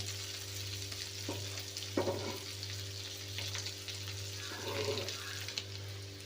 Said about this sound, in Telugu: ఈ సైడ్ వేగిన తర్వాత ఒక్కొక్కటి ఈ విధంగా తిరగేసుకోండి. రెండో వైపు కూడా వేగాలి కదా.